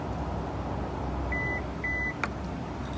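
A Kia Telluride EX Nightfall Edition's power liftgate sounds two short, clear electronic beeps in quick succession as its height memory is set, over a steady loud hum.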